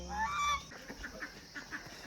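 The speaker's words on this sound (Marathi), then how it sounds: "छोटे छोटे बदक" Waterfowl at a bird sanctuary in Pelling, Sikkim, giving a loud nasal honk followed by a run of softer quacking calls close by, with no talking.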